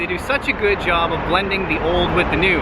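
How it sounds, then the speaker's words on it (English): Someone talks close up while a low, steady rumble of distant highway traffic in Bratislava, Slovakia runs underneath. "the noise you hear in the background, well, that is the highway"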